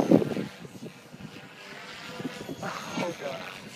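A Blade 450 X RC helicopter flies on a very windy day, its rotor whine and buzz blending with gusting wind noise; voices talk over it throughout.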